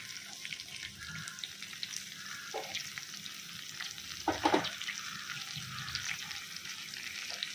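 Onions and green chillies fry in hot oil with a constant close crackling sizzle, broken by a few brief louder bursts of stirring partway through.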